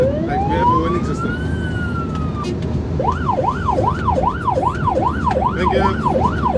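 A loud ambulance siren sweeps upward in a long wail, then switches to a fast repeating yelp over steady road rumble, close by.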